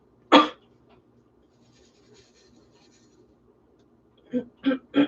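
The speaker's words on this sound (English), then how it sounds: "Amber with her coughing over here starting to worry me." A woman coughs: one sharp burst at the start, then a quiet stretch with faint room murmur, followed by a quick run of three coughs close by.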